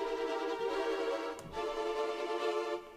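Sampled violins from 8Dio Adagio in sordino fast tremolo, a hushed, shimmering sustained chord with rapid bowing, quiet and continuous with a brief dip midway.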